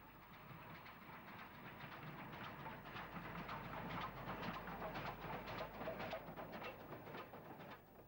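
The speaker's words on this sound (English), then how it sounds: "we wait by the line side for another rail tour engine, Standard Class 4 460 number 75077, reversing down to Olympia" A Standard Class 4 steam locomotive, number 75077, reverses down a railway line towards Olympia in 1967, giving a steady, distant rumble and rhythmic clatter of wheels that continues throughout.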